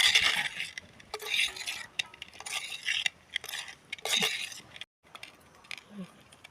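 A spoon stirs mackerel fish curry with curry leaves in a pot, making repeated scraping strokes and metallic clinks in uneven bursts, with a short pause midway. A voice talks over the stirring.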